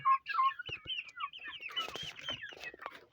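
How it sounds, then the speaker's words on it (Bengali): Chickens in a poultry house give a run of close, busy clucks and squawky calls, several birds overlapping with sharp clicks and rustling, fairly loud and without speech. "আমার মুরগির ঘরের মুরগিগুলা তোমরা দেখো"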